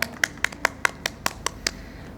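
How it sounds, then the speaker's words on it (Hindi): Audience clapping after a correct answer in a Ramadan sehri quiz show, heard as a run of about nine distinct sharp claps at a steady, quick rhythm, fairly quiet and with no talking over them. "तालियां"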